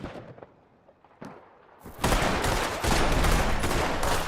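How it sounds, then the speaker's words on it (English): Gunfire in Red Dead Redemption 2 starts with a few scattered sharp shots, then turns into a dense, loud, sustained barrage of rapid overlapping bursts. "What are those guns?"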